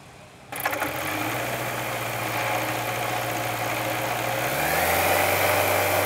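An autogyro's engine running in flight, a loud steady droning hum with a low vibrating tone that holds constant and shifts slightly lower near the end.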